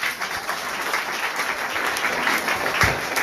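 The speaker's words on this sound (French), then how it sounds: "On nous applaudit le Seigneur." A church congregation applauds the Lord during a choir service, dense steady clapping filling the space at close range without a break.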